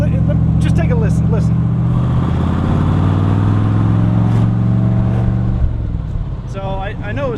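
A 1970 Corvette C3 V8 with adjusted carburetor jets revs up loudly with a slight hesitation at half throttle, a deep rumbling engine close by that drops off toward the end, with someone speaking briefly.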